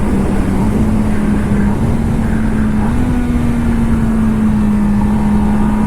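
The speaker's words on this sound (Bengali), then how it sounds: "এবার একটু ডাউন শিফট শোনাবো তোমাদের" A Kawasaki Ninja ZX10R sport motorcycle downshifts while riding: a loud, steady engine hum steps up in pitch a couple of times as the revs rise with each lower gear.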